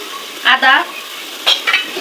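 Spices and ginger being stirred and fried in a pan before meat goes in: a close, steady sizzle broken by two pairs of loud scraping strokes of a spoon against the pan.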